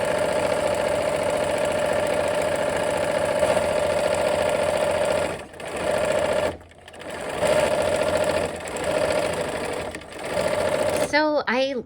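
A sewing machine stitches quilt rows together, a loud, close, steady motor hum broken by brief pauses, with a voice speaking near the end.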